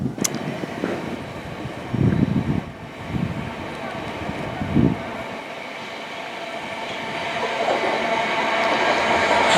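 A train running empty on the up line past Wimbledon footbridge toward London Waterloo, a close rumbling rush with rail clatter that builds toward the end, while a few short voice bursts sound early on.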